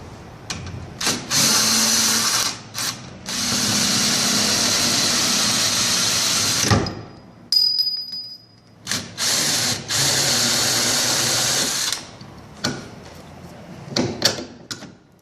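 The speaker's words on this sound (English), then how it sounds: "So you'll start by removing these two lower control arm through bolts." A ratchet works loose the 14mm lower control arm through bolts during a rear trailing arm installation, giving loud, sustained mechanical whirring bursts broken by short pauses and sharp clicks, with no talking.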